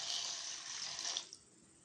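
Water pours steadily into a bowl of raw rice and urad dal set to soak. The stream is close and hissing and stops near the end, leaving a quiet tail.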